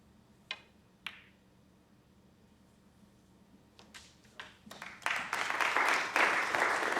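Snooker crowd at the Champion of Champions tournament breaking into applause: a couple of isolated claps and clicks at first, then the clapping swells over the last two seconds into steady, fairly distant applause.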